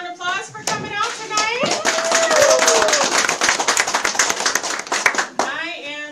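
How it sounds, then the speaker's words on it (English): Audience clapping at an evening city campaign kickoff event in St. Louis, a mix of individual claps and scattered voices and cheers rising into steady applause over about six seconds, with a voice calling out near the end. "Everybody, a round of applause for coming out"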